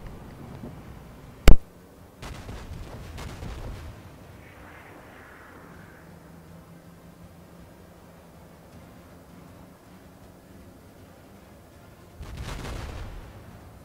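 Naval gunfire in the World of Warships video game: a sharp, loud crack followed by rumbling booming salvos, a long quiet stretch with low hum, then another heavy rumbling burst near the end.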